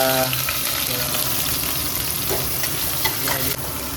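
Onions frying in a pan until browned, a dense steady sizzle and crackle with occasional stirring scrapes, loud and close throughout.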